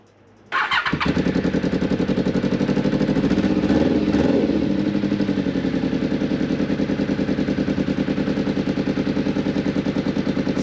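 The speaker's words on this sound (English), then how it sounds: "So yeah, the exhaust is blowing," A motorbike engine starts abruptly and settles into a loud, close idle, its blowing exhaust giving a rapid, even popping chug that continues steadily without talk.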